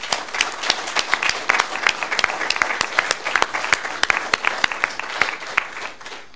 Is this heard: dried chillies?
no